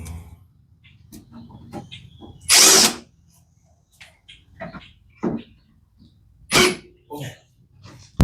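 Short bursts of a power drill revving close by, separated by quiet gaps and a few faint clicks and handling noises.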